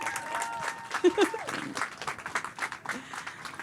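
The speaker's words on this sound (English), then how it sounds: "Everybody, let's give her a round of applause." Applause from the audience at a Latina real estate professionals' event, a scattered, moderate patter of clapping with some crowd murmur and voices mixed in.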